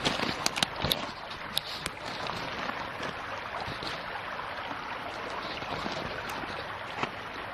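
A shallow creek flows and trickles steadily at close range, with scattered sharp clicks and knocks of stones or gear near the start and no voices.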